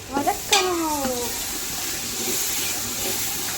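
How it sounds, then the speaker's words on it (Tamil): Ginger-garlic paste sautés in a pan for chicken biryani, making a steady, close hiss and sizzle with stirring, after a brief squealing sound at the start. "இது நல்லா பச்சை வாசனை போகிற வரைக்கும் வதக்கணும்."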